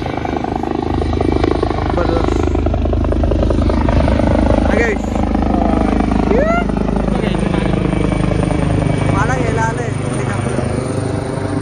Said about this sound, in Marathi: ते हेलिकॉप्टर घेऊन आले